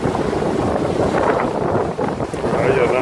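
Wind of about 20 knots blows at night aboard a 60-foot sailboat at sea, a constant loud rushing roar against the hull and microphone, with water noise mixed in and no voices.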